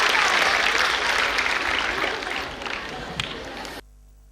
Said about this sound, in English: please put our big round of applause for them.